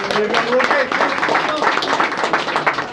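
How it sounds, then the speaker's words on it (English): An audience at Cape Ann gives a sustained round of clapping, dense and close, with voices mixed in throughout. "let's give a round of applause to Luke and everybody who set this up"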